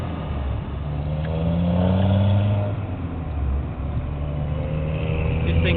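Car engine droning and revving while driving on a road at night, a steady low rumble that swells as it accelerates, heard from inside the cabin.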